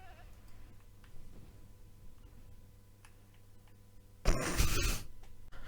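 A Minecraft goat riding in a boat at night gives one loud, short bleat near the end, after a stretch of quiet game ambience with faint ticking.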